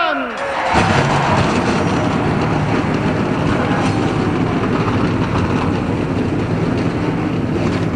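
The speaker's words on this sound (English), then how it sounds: "Gentlemen, start your engine!" Race car engines fire up together at Darlington, a loud sustained roar that swells almost at once and holds steady, dense and continuous, after a brief quieter opening.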